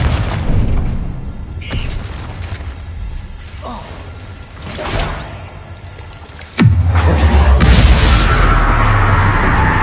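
Confringo explosive spell in the Hogwarts Legacy video game: scattered thuds and whooshes give way to a sudden heavy boom, then a loud sustained rumbling roar of the blast.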